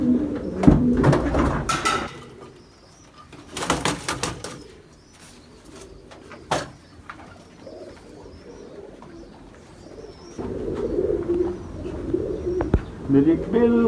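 Pigeons, a prized breeding pair kept by a fancier, coo repeatedly in low bursts, with a brief flutter of wings and scattered chirps close by; a voice speaks intermittently between the calls.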